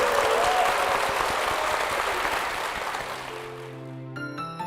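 A church congregation gives sustained applause as a blessing for a couple: dense, even clapping from many people that tapers off, giving way to soft piano chords near the end.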